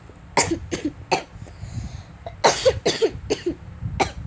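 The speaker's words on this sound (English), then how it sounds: "I'm actually coughing." A series of harsh coughs in quick bursts, with a pause and then another run of several coughs, close and fairly loud.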